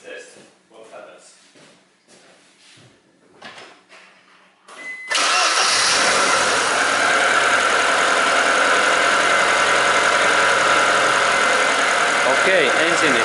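A Ford Zetec car engine, a 1995–2010 model just back from a mass air flow sensor cleaning, cranks and catches, then settles into a steady close idle after some talk and clicks.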